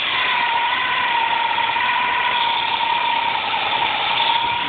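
A 267 V8 engine idles after a carburetor rebuild as it warms up: a steady, even hum with a faint whine on top. The level stays constant and no one speaks over it.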